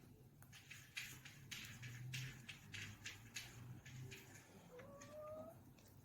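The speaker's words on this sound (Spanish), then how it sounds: "El gato quiere salir." Indoors, a cat meows to be let out, giving a few faint, rising calls against quiet background noise.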